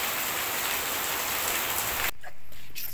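Heavy rain pours down steadily as a dense, loud hiss, then cuts abruptly to near-quiet drips in the last second.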